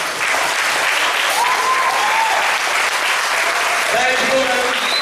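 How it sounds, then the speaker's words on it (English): An audience applauds steadily and loudly at a high school retirement function, a dense wash of clapping with voices rising through it. "a round of applause and a big thanks"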